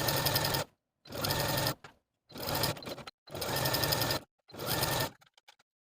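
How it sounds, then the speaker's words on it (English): A sewing machine stitches a stretched hemband onto the bottom of a sweater dress in five bursts of fast, steady whirring separated by short silences, ending with faint handling clicks. "Then we can sew the hemband to the bottom of the garment, stretching that hemband to fit from point to point."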